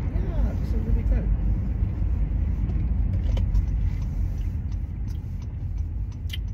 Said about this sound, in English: Oh goodness, there's traffic already.